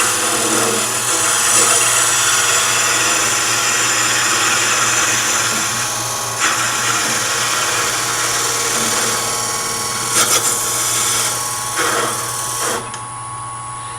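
A wood lathe spins steadily while a tool turns the base of a miniature nesting box, giving a constant motor hum with scraping and brief chattering bursts before it winds down near the end.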